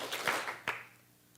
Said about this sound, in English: I want you all to clap twice.